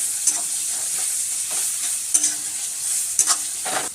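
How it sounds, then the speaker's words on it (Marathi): Chopped tomatoes and onion cook in oil in a pan over low gas, giving a steady close sizzle and hiss broken by a few scraping stirs of a spoon. "छान आपण याला असं बारीक स्लो गॅसवरती शिजवून घेऊ"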